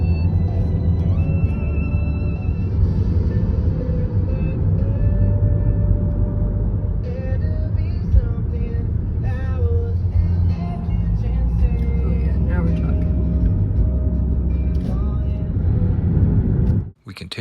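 Steady car interior drive along the Cabot Trail on Cape Breton Island, with a constant low engine and road rumble throughout, a few faint clicks and creaks on top, and talk running over it.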